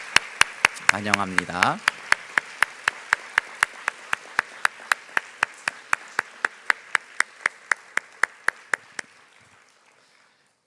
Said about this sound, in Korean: 우리 따뜻한 박수로 맞이해 주겠습니다.